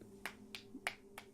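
Clap sound effect from the video game ChäoS;HEAd, four slow, evenly spaced soft claps, faint and isolated.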